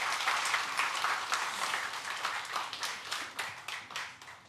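A church congregation applauds at a Sunday service, a dense, steady wash of many hands clapping close by that gradually thins toward the end, with no talking.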